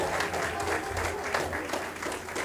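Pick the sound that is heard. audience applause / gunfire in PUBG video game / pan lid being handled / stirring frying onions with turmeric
audience applause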